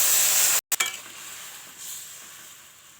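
Curry simmering in a pan with added water and spices, a loud steady sizzling hiss that cuts out briefly, then returns quieter and bubbling for the rest.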